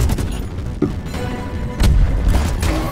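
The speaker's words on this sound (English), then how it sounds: "And I'm throwing a grenade there." A grenade going off in the video game Deep Rock Galactic, a heavy boom that hits hard and then rolls on in a dense, rumbling wash under the ongoing game noise.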